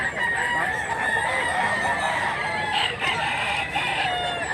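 A stag gamecock, a big-bodied bulldog-type fighting rooster, crows loudly and close, with drawn-out crowing calls over a busy farmyard background of other fowl.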